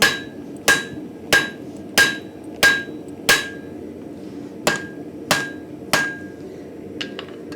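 A hammer strikes a hot axe blank to draw out the wedge shape of a Finnish-style axe, ringing metallic blows landing about ten times in a steady rhythm, close and loud, ending with a few lighter taps.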